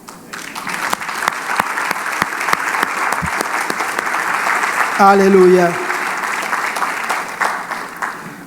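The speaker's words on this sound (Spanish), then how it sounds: "Y Él merece un aplauso por eso" A congregation applauds during a church sermon, a sustained dense round of clapping with a brief spoken exclamation partway through.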